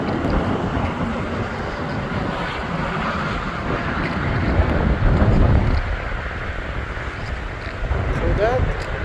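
Strong wind buffets the microphone on a windy night at a gas station where concrete is being power washed, a loud rushing roar with gusts, mixed with water spray and a voice talking over it.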